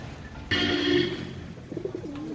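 A white-eyed female pigeon gives a short, low, wavering coo near the end, after a brief burst of rustling noise.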